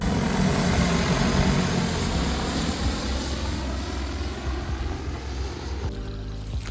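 A steady, droning engine hum with a whirring propeller quality from a drone seeding rice over a flooded swamp runs continuously at close range, holding a constant pitch throughout.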